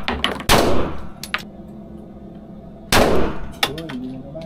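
Two sharp, loud gunshots ring out with echo at an indoor shooting range, about two and a half seconds apart, followed by fainter metallic clinks.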